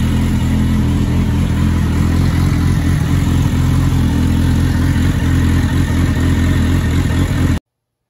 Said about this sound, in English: Yoshimura pipe sounds really nice.